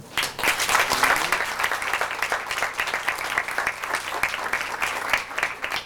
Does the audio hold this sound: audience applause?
yes